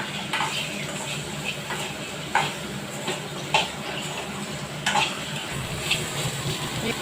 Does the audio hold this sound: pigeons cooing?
no